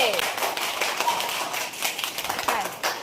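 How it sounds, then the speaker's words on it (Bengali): A class of schoolchildren claps for a classmate, a brisk scatter of many small hand claps filling the room under the children's own voices and bustle. "সবাই মানহাকে একটা তালি দাও জোরে"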